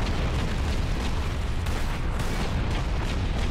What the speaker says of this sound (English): Bit of strategic scenery explosion.